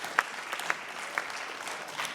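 A municipal meeting audience claps hands in a brief, steady round of applause, moderately loud with a few sharper individual claps standing out, and no speech over it.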